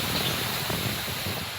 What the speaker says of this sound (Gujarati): મજા આવે આ પવનમાં.